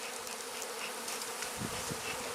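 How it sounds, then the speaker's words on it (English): Honey bees from a single small colony buzz steadily and close by as the hive cover comes off, a dense continuous drone with louder swells near the end and no voices. "So it's not going to be a huge bunch of bees."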